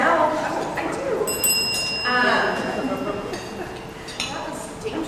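A small bell rings several times with bright sustained tones at a morning business breakfast gathering, set against steady room chatter and clinking in the background.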